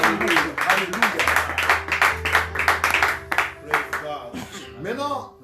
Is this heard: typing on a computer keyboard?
no